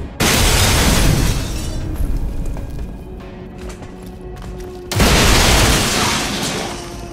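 A grenade blast in the video game XCOM: Chimera Squad, a loud, dense explosive roar that sustains and fades slightly, then a second powerful boom bursts in and rumbles on to the end.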